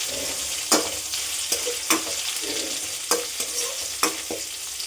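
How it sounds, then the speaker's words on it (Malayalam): Ginger, garlic, green chilli and curry leaves frying in a hot pan, a bright continuous sizzle broken by about six sharp scraping stirs at roughly one-second intervals, close and loud. "ഈ ഇഞ്ചിയുടെയും വെളുത്തുള്ളിയുടെ ഒക്കെ ആ ഒരു പച്ചച്ചോവ ഒന്ന് മാറി കിട്ടുന്നവരെ നന്നായിട്ടൊന്ന് ഇളക്കി കൊടുക്കാം."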